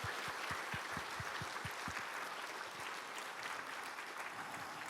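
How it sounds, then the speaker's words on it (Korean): A church congregation claps for the people who gave testimonies, a fairly faint patter of many hands that is densest in the first two seconds and then thins out. "우리 간증자들에게 한번 박수 한 번 더 할까요?"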